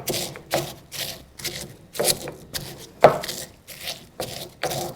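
Browned garlic cloves being pounded in a mortar and pestle for a Spanish sauce, made while cooking a Moorish chickpea and spinach stew: steady, regular dull knocks with gritty grinding, roughly two strikes per second, close and alone.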